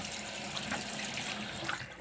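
Tap water runs steadily into a sink while a prosthetic eye is rinsed, a continuous close splashing hiss with small gurgles throughout.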